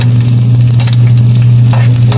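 Ginger added to fish paste frying in a pan, giving a loud continuous sizzle with a steady low hum and occasional stirring scrapes, no voices.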